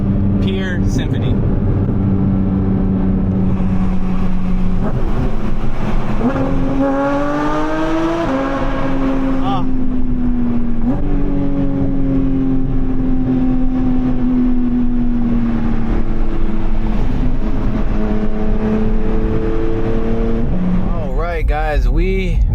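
A Porsche GT4 RS fitted with a full titanium Valvetronic exhaust revs up and shifts through rising and falling engine tones, loud and close for most of the stretch, with a voice talking over it.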